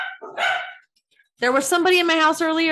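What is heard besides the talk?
dogs barking in the house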